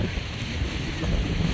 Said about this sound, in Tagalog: Yan ang hampas ng alon.